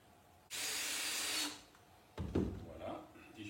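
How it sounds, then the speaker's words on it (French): A power screwdriver drives a threaded-rod fixing into a ceiling joist for a suspended false ceiling, one loud, close, steady whir lasting about a second, followed by rougher handling noises and lighter rattles. "La poutrelle, hop, on visse."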